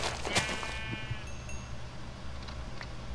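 A sheep in the Minecraft video game gives a couple of short, faint bleats over a low background hum, with no voices.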